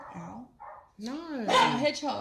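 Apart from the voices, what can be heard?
dogs barking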